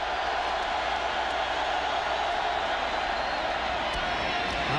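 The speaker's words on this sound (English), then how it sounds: "And the crowd's back into it" A large football stadium crowd at an Oklahoma Sooners versus South Florida Bulls college game in 2002 roars in a steady, dense wash of cheering and noise with no break.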